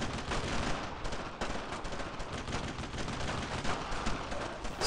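Dense, continuous rifle and machine-gun fire from the World War II shooter Brothers in Arms: Road to Hill 30, a loud crackling barrage with no talking.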